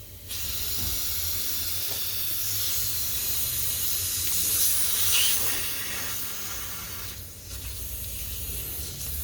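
Compressed air hisses steadily out of the crankcase ventilation of a 2010 Mercedes E63 with 81k km, a close, continuous airy rush that wavers slightly in strength, with no talk.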